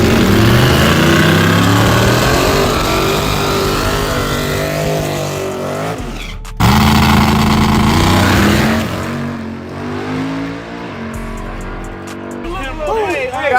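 A 1967 Chevy Camaro roars at a drag race, its loud engine blasting close by and then revving again, with a crowd and an announcer talking over it.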